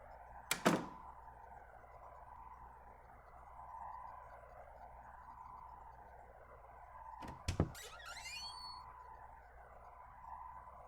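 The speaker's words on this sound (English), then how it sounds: "Let's just keep doors closed behind us." Doors open and close in a horror video game called Anatomy: a sharp thud near the start, then another thud with a creaking swing around the middle, all over a quiet, steady ambient drone.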